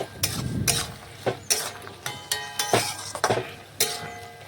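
Ridge gourd and boiled potatoes are stirred in a pan, a series of sharp scraping and clinking strokes of a spatula against the metal in an irregular rhythm, close and fairly loud, with no talking.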